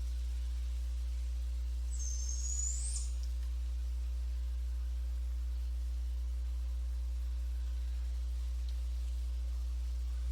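A barred owl calls once in a brief hooting phrase, faint and distant, over a steady low electrical hum with no other activity.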